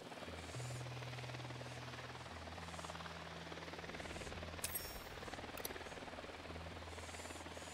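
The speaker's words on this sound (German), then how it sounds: "Setze Drohne ein." A drone flies in the video game Ghost Recon Wildlands, giving a steady droning hum with low tonal layers that persists throughout, joined by a couple of faint higher clicks midway.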